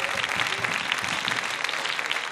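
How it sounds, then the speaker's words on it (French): Audience applause for contestants at a university pleading competition, a dense, lively burst of many hands clapping close and steady throughout. "Oui, vous pouvez les applaudir."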